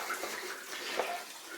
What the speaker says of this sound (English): hear water trickling down from somewhere up ahead